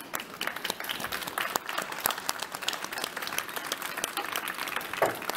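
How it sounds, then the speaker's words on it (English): An audience claps for the speakers at the close of an Open Talks session on design and charity foundations, a fairly quiet, steady spread of applause with individual claps standing out. "Can you all join me in giving my speakers a round of applause?"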